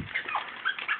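A small puppy whimpers softly in a room, a few thin high whines rising and falling over about a second, close but faint, with no talking.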